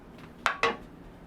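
A baking dish of cheesy scalloped potatoes slides into a home oven, giving two quick, close clinks of dish against the oven rack in a quiet kitchen.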